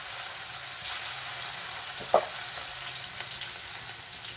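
Chili and ginger paste frying in a pan for Gujarati dry potato bhaji, a steady soft sizzle with a single brief clink of the spoon midway, close and alone.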